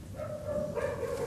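Dogs barking and yelping indoors during a 1970s-style stage comedy, a short burst of close, loud barks with whimpering tones, heard alone without talk.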